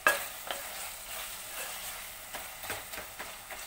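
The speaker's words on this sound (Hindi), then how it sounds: "हम अच्छी तरह से भून लेते हैं" Keema mince with softened tomatoes being stir-fried, a quiet continuous sizzle with light intermittent scrapes of a spoon against the pot.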